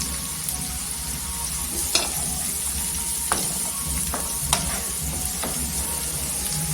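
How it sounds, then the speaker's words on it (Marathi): Green chillies sizzling in hot oil in a pan for soybean bhurji, a steady close crackle with a few sharp spoon taps on the pan's rim, no voices. "इथे हिरवी मिरची टाकून घ्यायची"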